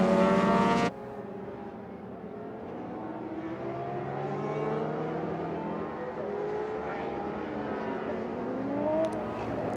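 Vintage race cars from SVRA Group 9, including an AAR Eagle Indy car, run behind a pace car at Indianapolis. Several engines drone and rise in pitch at moderate distance, overlapping in a steady, rolling roar.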